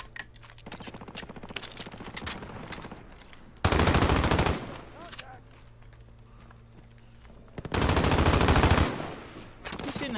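Submachine gun fire in an online shooter video game, with two long loud bursts of rapid automatic shots and scattered single shots between them, mixed with game sounds and a player talking.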